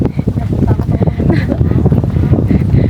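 Strong gusty wind at a mountain viewpoint on Mt. Samat, Bataan, buffets the microphone in uneven rumbling bursts, loud and close, with no clear talk.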